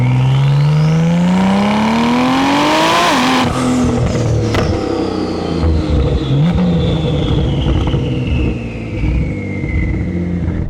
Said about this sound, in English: Oh, the pops, the crackles, just these sound phenomenal.